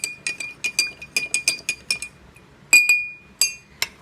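A spoon stirs salt water in a glass cup, clinking against the sides in a quick irregular series of bright taps, a few louder strikes near the end, close and alone.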